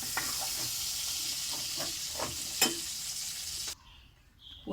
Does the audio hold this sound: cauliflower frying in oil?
yes